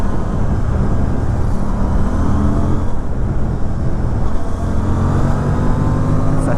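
Aprilia Tuono 457 parallel-twin motorcycle ridden through city streets, a loud, dense engine roar with wind and traffic noise blended in, steady throughout with no pauses.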